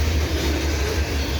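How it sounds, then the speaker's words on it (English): A CN grain train rolls past Pointe Claire station, a heavy low rumble of railcars that stays constant and close, strong enough to shake the railing. "Looks like a grain train. It's making the railing shake here"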